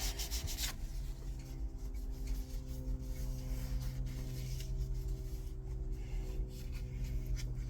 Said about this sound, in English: Run the rag through the flywheel like that